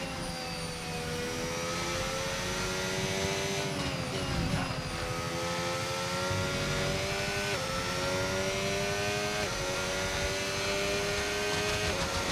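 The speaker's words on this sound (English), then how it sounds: "God, I can hear that engine grinding behind me." F1 race car engines drone and whine continuously in the F1 25 video game, with pitch rising and dropping through gear changes as another car's engine closes in behind.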